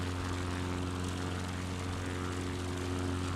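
Propeller plane engine in a flight simulator, a steady droning hum with a strong low tone that stays constant and loud throughout, with no talking.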